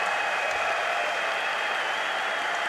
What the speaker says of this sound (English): Big round of applause for you as well.